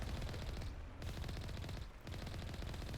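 Automatic turrets firing in the Mass Effect video game, a dense continuous burst of rapid gunfire with only two brief pauses, loud and sustained throughout.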